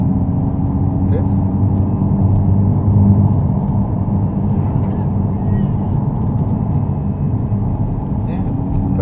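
A Nissan GT-R engine holds a steady, loud, droning rumble under constant throttle on a race track, a continuous low tone lasting throughout with no breaks.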